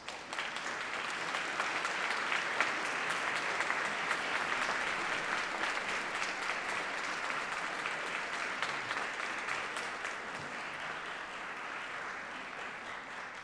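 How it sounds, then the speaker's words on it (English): Law school graduates at a University of Manchester graduation ceremony stand and applaud their family and friends. The clapping is dense and sustained from a large hall crowd and swells briefly before holding steady. "I would like all of the law school graduates just to stand up for a moment and applaud their family and friends"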